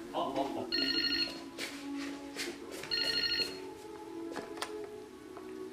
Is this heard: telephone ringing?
yes